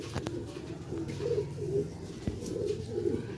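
Pigeons, the Sialkoti breed offered for sale, coo in soft repeated phrases close by, with a steady low murmur and scattered taps in the background and no speech.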